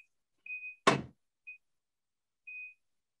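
A high electronic beep sounds three times at uneven intervals, broken up by a single sharp knock or thud; otherwise quiet.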